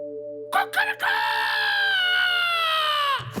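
A man imitates a rooster's crow with his voice, one long, loud, drawn-out call after a few short clucking lead-in sounds, close and clear in a Telugu comedy scene.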